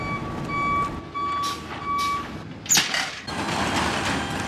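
A truck sounds its steady reversing beeper, a pure repeating tone pulsing in slow, even beeps over low engine rumble outdoors, with a sharp metallic clank midway through.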